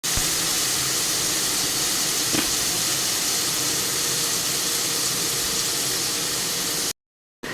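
Steam hisses steadily from vegetables cooking in a pot on a home stove, a constant broadband rush that holds evenly throughout before cutting off abruptly at the end, with no talk.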